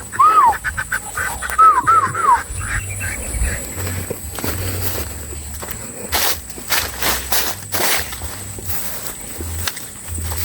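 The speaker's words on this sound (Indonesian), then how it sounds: "Ini lentok-lentok yang main di luar." Muscovy ducks quack a few times early on, then fade into rustling outdoor sounds, scattered footsteps and crisp clicks at moderate distance.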